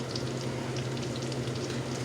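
Onions cooking down in a pan with ground burger, giving a steady, even frying sizzle that holds at a moderate level close by, with no talk over it.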